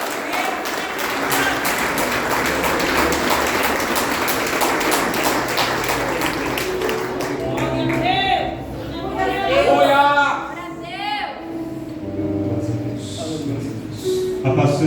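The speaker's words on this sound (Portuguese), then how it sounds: "aplaude o Senhor bem forte que ele merece" A church congregation claps during a worship service, a dense wash of applause that fades after several seconds into talk and voices, with a hum running beneath.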